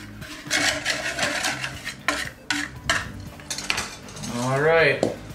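Cookie dough ingredients for double chocolate cookies, including cocoa, are briskly whisked in a bowl, giving a close, loud, fast metallic rattle against the sides, with a brief voice-like whoop near the end.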